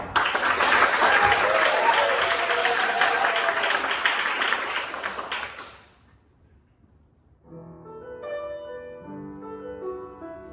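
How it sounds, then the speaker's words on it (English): A live audience applauding after a performance at a song event, a dense, loud burst of clapping that fades out, followed by soft sustained musical tones. "So a big round of applause, please, for Dan Brown."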